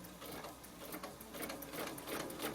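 A sewing machine stitches across a quilted pillow top, its steady mechanical chatter running continuously and fairly close, with slight surges in speed and no talking.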